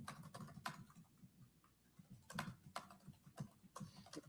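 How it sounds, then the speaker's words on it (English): Rapid typing on a computer keyboard, a quick run of faint, light clicks with uneven rhythm and short pauses over a low background murmur. "He's typing fast though. He's typing fast."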